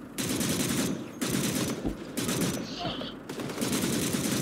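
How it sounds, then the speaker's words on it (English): A .50 caliber anti-aircraft machine gun in a 1968 Eastern Front war video game fires in loud, sustained bursts, separated by brief pauses, close and dominant. "Reload that 50 caliber anti-aircraft MG."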